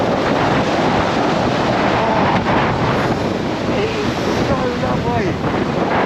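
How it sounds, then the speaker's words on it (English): Sea waves break and wash along the shore in a loud, continuous surf roar mixed with heavy wind buffeting the microphone. "I just wanted to feel real waves, real seawater."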